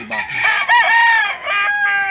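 A fighting rooster on a small backyard farm in Ternate crows loudly and close, a couple of strained drawn-out calls with clucking from other fowl around it.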